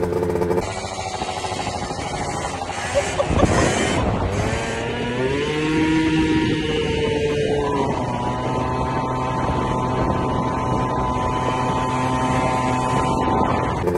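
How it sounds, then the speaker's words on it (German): A Yamaha Aerox scooter with a 50cc engine, 17.5 mm carburettor and modified variator runs with a steady, buzzing two-stroke drone, its pitch sweeping up and down as the throttle changes, with no talking. "Ich kann euch mal ein Video einblenden hier, wo die Aerox nur auf 50 Kubik hatte."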